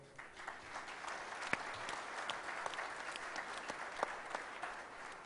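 Steady applause from a panel audience fills the room, a soft, even wash of many hands clapping with a few sharper claps near the listener, heard alone without talk.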